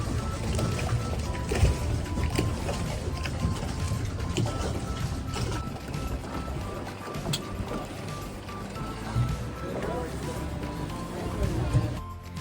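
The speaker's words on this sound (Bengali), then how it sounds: "চললাম আমরা বোটে করে এখন এলিফেন্টা বিচের দিকে।" Speed boat ride to Elephant Beach off Havelock Island, a steady loud engine drone with water rush and rattling hull noise throughout, with people talking over it.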